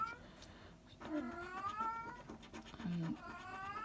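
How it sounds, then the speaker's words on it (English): A female cat in season meows insistently to go out, two drawn-out yowling calls from a short distance away, set against a quiet room background. "So she's meeping as she wants to go out"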